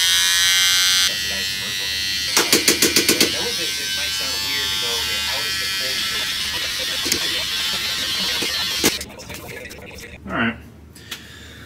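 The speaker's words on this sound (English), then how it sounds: "Time for a quick little shave to trim up the beard." An electric shaver trims a beard with a close, steady high buzz that shifts slightly in pitch as it moves, a brief rapid stuttering burst early on, then the buzzing fades out near the end.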